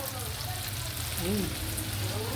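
Tofu (tokwa) frying in a pan until golden brown, a continuous dense sizzle and spatter close up, with faint voices in the background.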